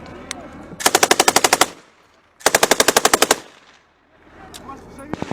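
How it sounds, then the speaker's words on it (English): Soldiers firing machine guns in a forest ambush: two long, loud bursts of rapid evenly spaced shots separated by a short pause, with scattered single shots near the end. "Who the fuck's that shooting behind us?"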